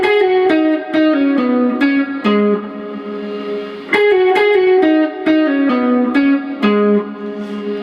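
A lead electric guitar line from a song, played through effects with reverb and a slight chorus sheen, picks out a repeating melodic phrase of plucked notes, loud and close, with no voice.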